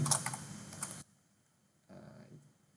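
Clattering keystrokes on a computer keyboard while code is entered, a close flurry of taps for about a second, a pause, then another softer run of typing.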